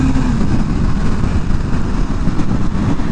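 A BMW M1000R motorcycle engine produces a loud, steady, close rumble with dense low growl throughout, no talking.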